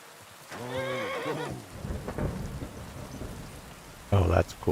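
Rain and rolling thunder in the medieval world of Kingdom Come: Deliverance 2, a steady wash of rainfall with low rumbles, joined near the start by a horse's whinny and ending on a loud, sharp burst.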